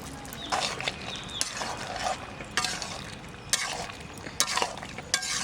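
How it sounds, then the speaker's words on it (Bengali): Lentil dumplings (dal bori) fry in a pan with a steady, close sizzle, and sharp stirring scrapes sound at intervals over the hiss. No one speaks. "ডালের বড়ি কটা ভেজে রাখছি"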